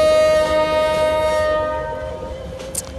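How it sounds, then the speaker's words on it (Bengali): A sustained train horn blast from a Bangladeshi train in Train Simulator, sounded inside Chattogram station as the train slows to a stop; a steady harmonic tone dominates and then fades out over rumbling train noise. "স্টেশনের ভিতরে হুইসেল দিয়েছি।"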